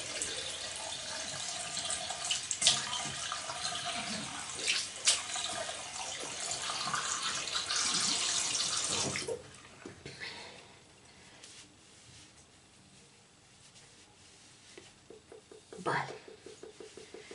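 A bathroom tap runs water for face rinsing, giving steady loud splashing for about nine seconds before it cuts off. Quieter clinks and handling follow, with a voice now and then.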